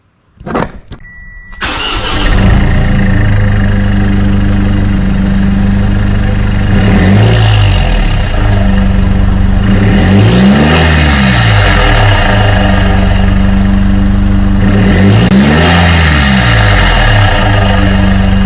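A Mitsubishi MQ Triton fitted with a 4-inch snorkel and custom air box starts up, then settles into a steady, loud, close idle broken by three deep revs that swell and fall back.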